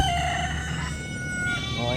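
A rooster crows at a rural farmyard, a loud, drawn-out harmonic call rising and breaking across about two seconds against steady outdoor ambience.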